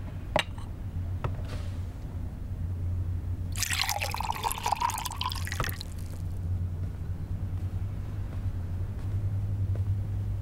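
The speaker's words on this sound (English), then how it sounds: "Sister pouring me some water." Water poured into a glass, a bright splashing pour lasting about two seconds in the middle of a quiet room with a low steady hum and a few small clinks before and after.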